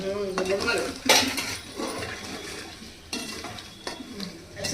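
A spoon stirs amla pickle with salt in a hot pan, giving repeated scraping clinks of metal on the pan over a quiet sizzle, with sharper knocks at irregular intervals.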